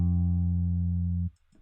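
A raw synth bass from an Ableton Live beat, before any plugins, holds one steady low tone for just over a second and then cuts off abruptly, leaving faint trailing noise.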